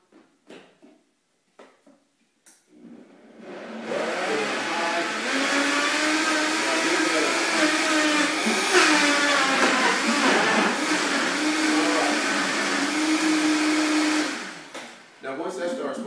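A blender whirs steadily for about ten seconds while blending apple, lime, lemon with rind, cucumber and grapes for a green smoothie, loud and continuous after a few brief clicks and taps, then winds down.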